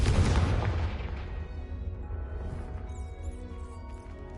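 A fiery blast spell cast in a Hogwarts castle video game erupts in one loud crashing boom at the start, then rumbles and decays into a fading, echoing tail with faint shimmering debris.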